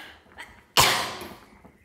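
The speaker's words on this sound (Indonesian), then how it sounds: "Maaf teman-teman, aduh saya batuk ya" A single sharp cough bursts out close by in a kitchen while cabbage is added to a dish, following some quiet background rustling, then fades away.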